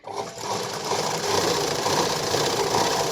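A sewing machine runs steadily while stitching a katori blouse with lining, its fast mechanical whir and rattle starting after a brief pause and holding constant and close throughout.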